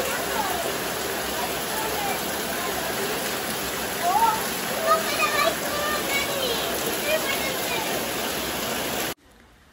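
Heavy monsoon rain falls steadily in a home setting in Kerala, a dense continuous hiss with a few faint bird calls mixed in, cutting off near the end.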